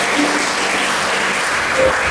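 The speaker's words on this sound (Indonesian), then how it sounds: "kita berikan tepuk tangan untuk kita" Congregation clapping during a Sunday church service, a full, even burst of applause from many hands, loud and close, lasting the whole short stretch without speech.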